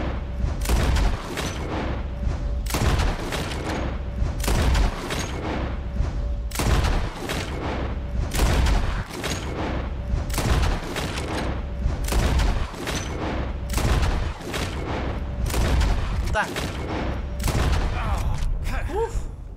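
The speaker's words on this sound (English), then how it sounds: "As soon as you see them, start shooting." Gunfire at a shooting contest in the video game Red Dead Redemption 2, a long run of loud, sharp shots in uneven bursts with brief gaps, close and dominant throughout.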